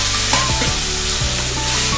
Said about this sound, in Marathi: कोंबचे ते चांगले आता आपण त्याच्यामध्ये ऑइलमध्ये फ्राय करायचे